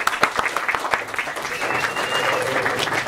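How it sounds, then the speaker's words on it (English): A science-in-the-pub audience gives a warm round of applause for a speaker: dense, fairly loud clapping with sharp individual claps at the start that settle into a steady roll for about three seconds. "give a big round of applause for Keira"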